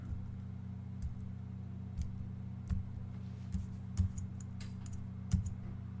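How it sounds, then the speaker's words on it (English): Several separate clicks from cursor keys pressed on a computer keyboard, spaced about a second apart over a steady low hum. "I can move around the various icons on the screen using the cursor keys on the keyboard"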